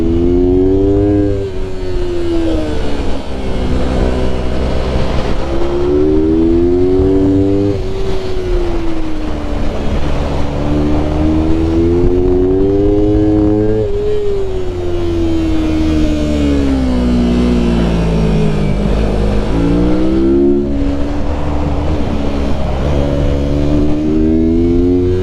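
A Mini Rip-a-twin racing kart engine on an R3 track day, loud and close, revving up and down in repeated rising and falling sweeps as it accelerates and brakes through corners, with no talking.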